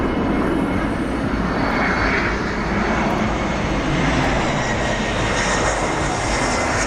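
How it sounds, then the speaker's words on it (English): EasyJet airliner landing at Madeira airport in a flight simulator game, a loud steady roar of aircraft engines filling the whole stretch with no talking. "They really did their homework there on the EasyJet. That was an EasyJet landing."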